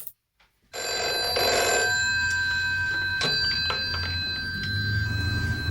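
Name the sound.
telephone ringing in film XTRO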